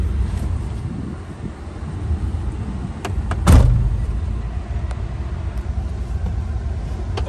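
A 2011 Ford F-150 pickup truck at the start of a test drive, heard as a steady low rumble with wind noise and a brief louder thump midway, like a door shutting nearby.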